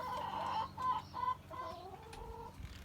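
Backyard chickens in a coop cluck steadily in short, rising calls, several birds close by with a soft, continuous murmur of fowl noise.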